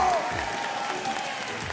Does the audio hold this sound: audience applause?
yes